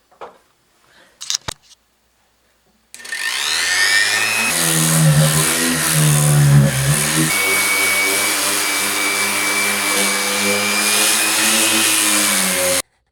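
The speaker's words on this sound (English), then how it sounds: "all I have to do is start sanding." A few soft clicks, then a power sander starts on a wooden tabletop and runs continuously with a loud, steady whine and grinding buzz that shifts slightly in pitch.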